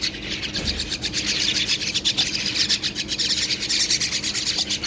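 Pakistani myna birds in a cage, for sale in Baghdad, give a steady stream of bright chirps and calls, close and fairly loud, with no talking.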